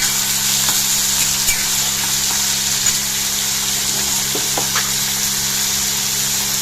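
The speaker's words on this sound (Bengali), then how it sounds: "এবার এর মধ্যে দিয়ে দিলাম গাজর আর মটর, দিয়ে ভালো করে নাড়াচাড়া করে নেব" Carrots and peas sizzle steadily in a frying pan while being stirred, with a constant frying hiss and occasional faint spatula scrapes and clinks.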